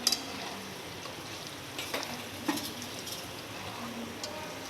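Malai mawa cooks in a pan until the ghee separates, giving a soft, steady low sizzle with a few faint taps and scrapes from stirring, quiet and fairly distant.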